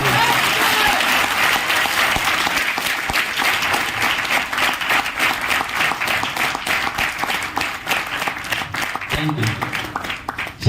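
A large audience at a direct-selling network meeting breaks into loud, sustained applause, with crowded clapping that thins into sharper individual claps near the end.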